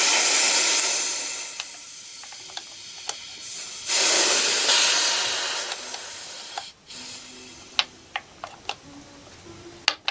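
High-pressure air from a PCP air rifle cylinder hissing out steadily as it is drained, a strong continuous rush that swells, dips and tapers off, followed by scattered sharp ticks and clicks nearby.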